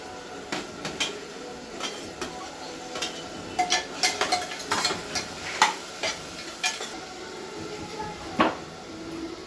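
Tomatoes dropped into hot oil in a pan for a festive vegetarian thali, giving soft crackling sizzle with scattered sharp pops and stirring clicks throughout, moderately close.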